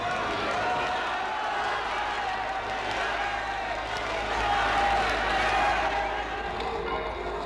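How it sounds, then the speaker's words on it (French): A vast crowd roaring an ovation along the royal procession through Brussels, a continuous dense wash of cheering and clapping at steady loudness, with a voice speaking over it. "ce ne sera qu'une même ovation, clamée par une foule innombrable qui vibre à l'unisson du bonheur de ses souverains"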